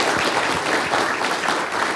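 An audience applauds at a 2010 public conversation event with Jacques Barzun, a dense, even burst of clapping heard alone for a couple of seconds.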